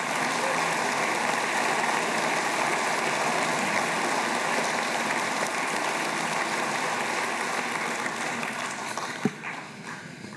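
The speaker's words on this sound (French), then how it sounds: "Et je pense que vous pouvez les applaudir" Sustained applause from a conference audience, a dense even wash of clapping that carries on at length and thins out toward the end.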